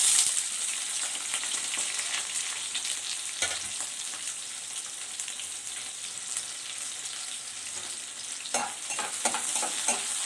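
Sliced onions added to a hot tempering of spices and dried red chillies in oil, frying with a continuous bright sizzle and periodic stirring scrapes, close up with no voices.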